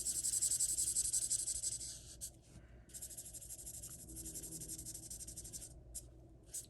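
Steady scratchy strokes of a marker or pencil coloring a stamped image on a Stampin' Up! Paper Pumpkin card, close and fairly quiet, with brief pauses between passes.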